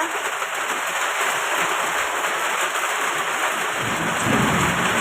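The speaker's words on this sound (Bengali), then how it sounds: "মুষলধারে বৃষ্টি হচ্ছে।" Steady heavy rain pours down with a constant hiss, low rumbles of thunder rolling underneath and swelling slightly near the end.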